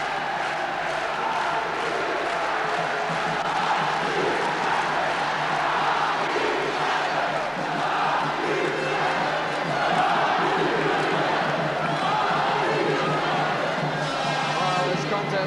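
Ice hockey crowd in an arena during a 1988 British league game between Nottingham and Murrayfield, a sustained roar of cheering and chanting throughout, with a commentator talking over it.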